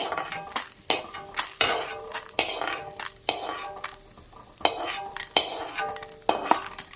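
Urad dal roasts in a kadai as a metal ladle stirs and scrapes it in regular strokes, each with a clinking rasp against the pan, over a faint sizzle.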